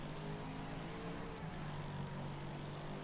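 Pack of race cars at Pine Hills Raceway in the demolition-derby racing game Wreckfest, a dense, steady roar of several engines close by with a faint rattle of contact; no talking.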